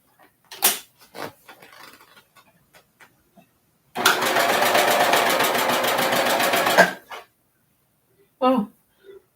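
A sewing machine runs a long cover hem seam in one steady, rapid mechanical whir lasting about three seconds, framed by scattered handling clicks and brief voice sounds before and after.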